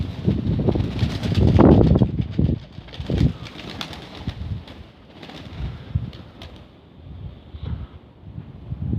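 Pigeons coo softly near a loft on a very windy day, low repeated murmuring calls mixed with gusty wind rumble and no talking.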